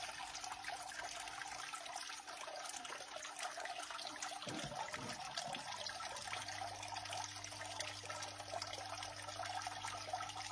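A soft, steady wash of water flowing across a miller table used for gold recovery, with a brief gurgling splash in the middle and a low hum underneath.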